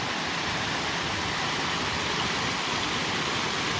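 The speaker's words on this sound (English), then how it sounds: "Nice little cascading waterfall, which will go under the road and down into the reservoir." Small cascading waterfall running under a road and down into a reservoir on the Longdendale trail, a steady broadband rushing of water, close and continuous, with no voices.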